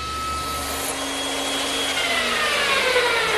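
A band saw cuts a tenon on a 2x3 rail, a steady mid-level whine and hiss that runs without a break for a few seconds, with no voices.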